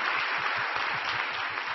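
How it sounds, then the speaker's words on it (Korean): An evening church service congregation at Onnuri Church applauds in thanks, a continuous, even wash of clapping heard alone for a short stretch. "다시 한번 이 밤에 임하신 하나님께 감사의 박수 올려드리시겠습니다."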